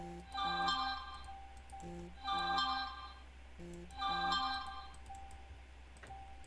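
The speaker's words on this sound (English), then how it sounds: "you guys can hear that notification sound effect" A short electronic notification tone from the Roblox game Plane Crazy plays three times in even succession, with clear melodic beeps over a steady low hum.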